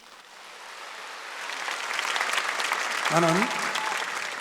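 A church congregation applauds during a Wednesday worship service, the clapping swelling over a few seconds into steady applause, with a brief voice heard near the end.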